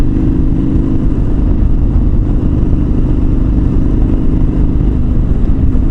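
A KTM 1290 Super Adventure R motorcycle engine drones loudly and steadily while riding with the throttle eased slightly, a constant close rumble blended with rushing wind.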